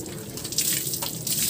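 Running tap water splashes steadily onto a Honda Click 125 scooter's footboard, a close, continuous rinsing hiss with brief surges in flow.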